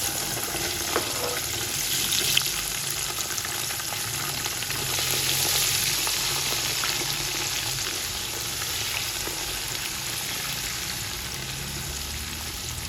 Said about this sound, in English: We are now going to add in our sliced onions.